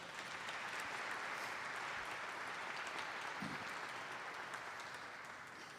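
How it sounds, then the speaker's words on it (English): A luncheon audience at a children's benefit event gives the sponsors a round of applause, with steady, dense clapping from a large crowd that continues throughout and fades slightly at the end. "If you would give them a round of applause."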